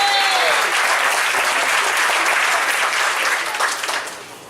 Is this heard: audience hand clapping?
yes